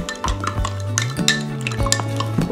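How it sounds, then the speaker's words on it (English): A spoon stirs borax into a saturated solution in a container, giving quick repeated clinks and scrapes against the sides in an uneven rhythm, close and clear. "take your spoon and you're gonna mix it up"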